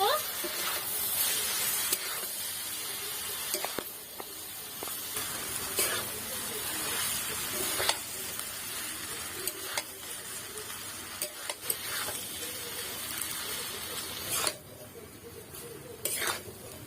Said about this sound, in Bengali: চাউমিন দিয়ে দিচ্ছি। ভালো করে মিশিয়ে নেব।